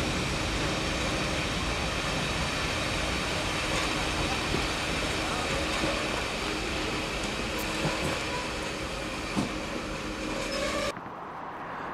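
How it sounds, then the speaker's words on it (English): Western Champion, a diesel locomotive, crosses the Findhorn Viaduct east of Tomatin on the Highland Main Line with a steady broad roar and engine drone that hold level throughout, then cut off abruptly near the end. "Western Champion began her long journey south and heads across the magnificent Findhorn Viaduct just east of Tomatin on the Highland Main Line"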